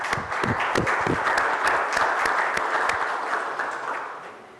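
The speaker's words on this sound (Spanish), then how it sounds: "Lo vamos a recibir con un fuerte aplauso." Steady audience applause greets a guest speaker at a presentation on the French Court of Cassation, a broad wash of many hands clapping that holds for several seconds and slowly fades toward the end.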